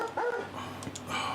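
A dog named Baker gives a short, close bark or yip mixed with whimpery sounds, over a low background hum.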